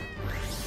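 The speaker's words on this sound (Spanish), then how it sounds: "Se separó en bastantes gatitos." Kittens meowing in the video game Gravity Rush Remastered, a single short clear meow close and loud.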